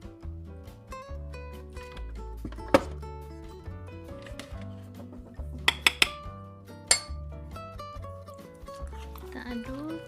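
A utensil stirs pastry dough mixed with liquid milk in a bowl, giving scattered clinks and a few sharp, bright knocks against the bowl over soft background music.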